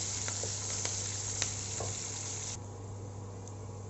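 Green chillies and large onions sautéing in a pan for an anchovy dry fish pulao, a steady bright sizzle that drops away partway through, leaving a quieter hiss with a few faint ticks.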